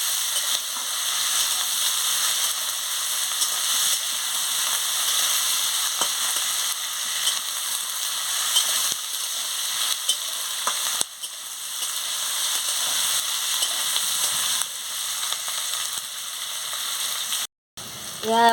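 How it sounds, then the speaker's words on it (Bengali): Green chilies, onion and potato frying in a pan, a steady loud sizzle that runs unbroken for most of the clip with a faint stir now and then and a brief cut near the end. "কাঁচা লঙ্কা, পেঁয়াজ, আলু একসঙ্গে দিয়ে দিচ্ছি। দিয়ে ভালো করে ভেজে নিচ্ছি।"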